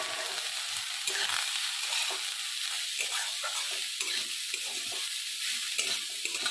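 Grated cauliflower hits hot oil with bay leaf and cardamom, giving a continuous soft sizzle and light stirring scrapes on a low flame.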